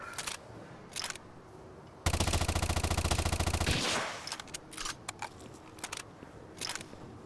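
An automated turret in an oil-platform level of a shooter game fires a sustained rapid burst of about two seconds, loud and close, with scattered single shots and clatter before and after.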